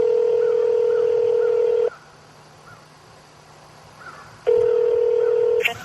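Touch-tone telephone dialing: loud steady tone bursts, one running about two seconds, then a quiet pause with faint background, then another sustained tone near the end.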